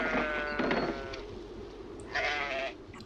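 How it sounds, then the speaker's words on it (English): Sheep bleat loudly in a 1981 werewolf film set on the English moors, two distinct harmonic calls close by, the first long and wavering, the second shorter, over a steady low rumble. "You have lovely sheep."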